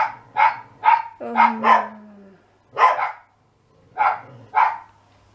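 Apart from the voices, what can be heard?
small dog barking in the distance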